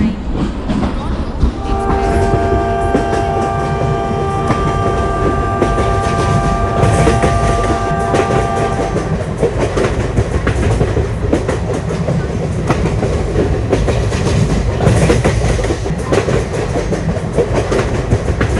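A Duranto Express train at a busy station platform, loud and close throughout, with a sustained horn blast held from about two to nine seconds over steady rolling rumble and clatter.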